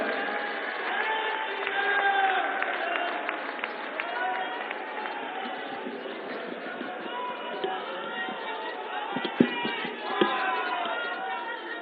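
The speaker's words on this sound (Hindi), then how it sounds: "एक बार जोरदार तालियों से अभिनंदन।" Large stadium crowd at a political rally in New Delhi's JLN Stadium, a broad continuous roar of clapping and cheering with scattered shouts, heard from a distance and somewhat muffled.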